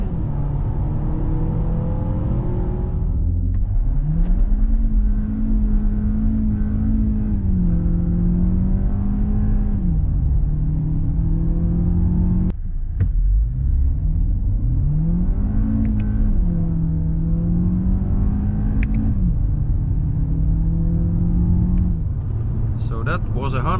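A 2021 VW Golf 1.5 eTSI accelerates hard from a standstill with wheel spin, the engine note climbing through two gear-shift pulls, heard from inside with a voice talking over it.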